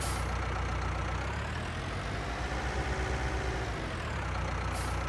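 A Valtra G Series tractor in Farming Simulator 19 idles with a heavy, continuous engine drone, and a brief, sharp compressed-air brake hiss sounds near the end.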